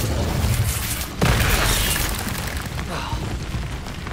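A fire spell cast in the Hogwarts Legacy video game bursts out with a sudden loud whoosh and boom partway through, over a dense, continuous rumble of game effects and background noise.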